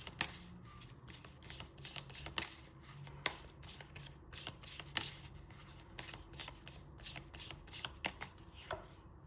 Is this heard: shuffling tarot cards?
yes